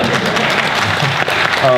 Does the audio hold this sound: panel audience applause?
yes